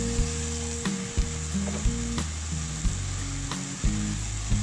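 Water splashed into a hot pan of stir-fried ginger chicken for a keto dish, a steady loud sizzle and crackle with scraping stirs and a few sharp clicks of a utensil on the pan.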